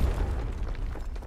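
Grenade blast in the Delta Force: Hawk Ops shooter game: a loud, close boom at the start with a heavy low rumble that lingers and slowly fades over about a second, no talking over it.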